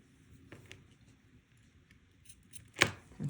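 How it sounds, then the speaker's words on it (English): A single crisp snip of scissors closing through tassel thread, preceded by faint small handling clicks in an otherwise quiet setting. "I am going to cut it right up here with my scissors"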